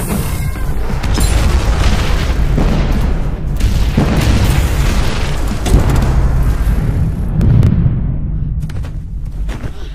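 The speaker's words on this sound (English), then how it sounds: "The Megazord has initiated a self-destruct sequence." A Megazord self-destructs in Power Rangers with a long, loud explosive roar, rolling booms and crackling blasts that fade out near the end.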